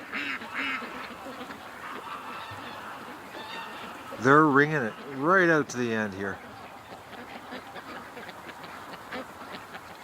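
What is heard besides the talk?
ducks and geese calling at a lake in the evening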